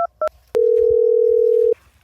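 A phone call being placed: two quick keypad beeps, then a sustained steady tone lasting over a second before cutting off, loud and close with no speech.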